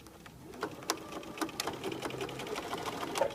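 Sewing machine back stitching French binding at a mitered corner, a fast rhythmic needle chatter running steadily throughout, close and moderately loud.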